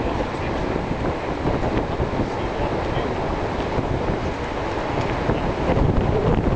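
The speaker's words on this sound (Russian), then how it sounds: "Это верхний водопад." The upper waterfall in Yellowstone, a broad steady roar of falling water with heavy wind buffeting on the microphone, unbroken and fairly loud throughout.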